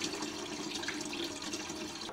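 Water pours steadily into an espresso machine's rear reservoir, a soft continuous splashing trickle at low volume with no talking.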